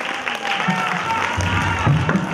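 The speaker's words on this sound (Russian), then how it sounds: "Браво! Аплодисменты!" Concert audience applauding and cheering after a stage performance, a continuous wash of clapping and crowd noise with voices audible over it.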